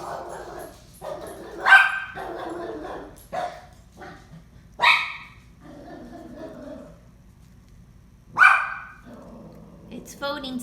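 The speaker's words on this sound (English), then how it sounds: "dog will bark." A dog barks at someone at the door, giving several sharp, separate barks spaced a few seconds apart, fairly close, with quieter rumbling between them.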